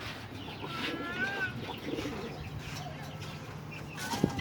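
Pigeons coo softly in the background, faint low murmuring calls with a few chirps and an outdoor hum, and a brief tap near the end.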